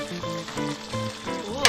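Filipino pork menudo with ketchup simmers in a pot, giving a brief, soft, steady bubbling sizzle with a faint tonal hum and a small clink at the end.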